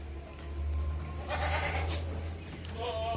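A goat bleats nearby in wavering, nasal cries, a longer call followed by a shorter one, over a low steady hum.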